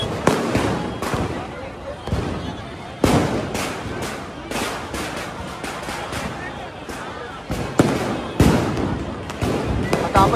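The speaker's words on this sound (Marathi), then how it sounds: "आणि मैदानामध्ये फटाके फुटत आहेत।" Firecrackers burst across the Shivaji Park ground in Dadar during the Deepotsav festival: repeated sharp cracks and booming bangs at irregular intervals, some near and some farther off, over a murmur of crowd voices.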